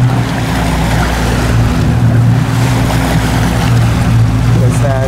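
Speedboat crossing the sea in the Maldives toward Dharavandhoo Airport, a loud, constant outboard engine roar layered with wind buffeting and hull slapping over water.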